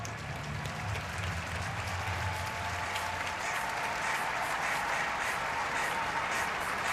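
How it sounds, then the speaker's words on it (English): A baseball crowd at the Tokyo Dome applauds during a World Baseball Classic game between Czechia and Korea, a broad, steady wash of clapping from a large stadium audience. "Nice round of applause from the Tokyo Dome crowd."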